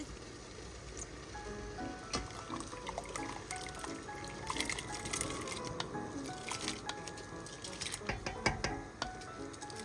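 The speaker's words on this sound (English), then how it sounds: "So now I'm going to drain the rice." Soaked basmati rice being drained of its water, with faint trickling, dripping and wet squishing sounds in a quiet kitchen, soft and close throughout.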